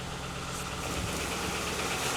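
A car engine idling after an LFX to L77 swap, rattly after sitting a long time: a steady, dense mechanical drone with continuous low rumble and clatter, close up and unbroken.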